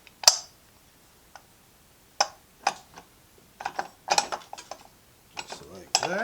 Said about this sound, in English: you can put the outside of your driver pulley on.